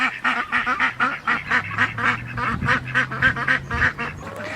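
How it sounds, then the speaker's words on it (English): Ducks quacking repeatedly in a steady, overlapping chorus, close and loud, as mother ducks gather with their ducklings on a homestead; no talking. "Mamas are coming out to check on all the ducklings"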